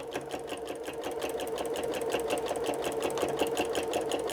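A sewing machine stitches a quilted Christmas Star Santa cookie rug, a fast, even, rapid chatter of the needle running steadily and close throughout.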